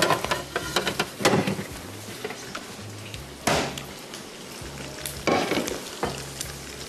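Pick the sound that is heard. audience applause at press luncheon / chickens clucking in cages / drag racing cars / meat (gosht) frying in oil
meat (gosht) frying in oil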